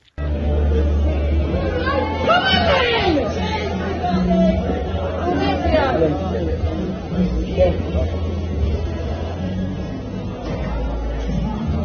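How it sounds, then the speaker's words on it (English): A crowd murmurs and chatters steadily in a large space, the babble swelling at moments with reactions. "Listen for the crowd when they realise what she's doing."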